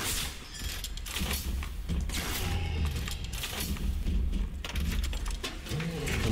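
A crossbow fires incendiary bolts in the video game BioShock, with loud mechanical clacks, ratcheting and burning whooshes over a dense, busy game soundscape.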